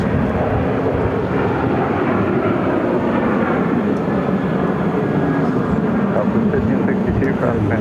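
An American Airlines airliner at Phoenix airport gives off a steady, loud jet roar, a broad, even rumble held at constant strength throughout, with no clear start or fade.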